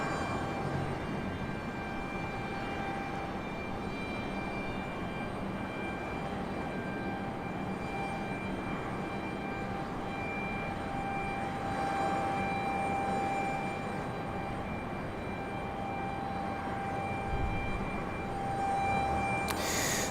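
A United airliner arrives at Raleigh-Durham International Airport: a steady, sustained engine roar with a faint whining tone, at moderate distance, continuous for the whole stretch with no talking.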